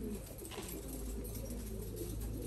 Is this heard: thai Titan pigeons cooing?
yes